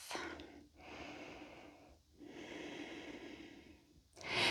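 Slow, deep yoga breaths during a vinyasa flow, each long airy exhale rising and fading in steady cycles, close and quiet.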